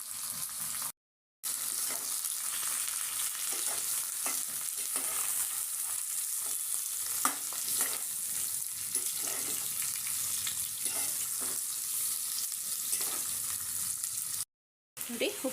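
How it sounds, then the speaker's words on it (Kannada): Bitter gourd frying in oil crackles with a steady close sizzle and irregular stirring scrapes, cut by two brief silent gaps, no talk. "ಒಂದು 5 ನಿಮಿಷ ಇದರಲ್ಲೇ ಚೆನ್ನಾಗಿ ಫ್ರೈ ಮಾಡಬೇಕು ಎಣ್ಣೆಯಲ್ಲಿ"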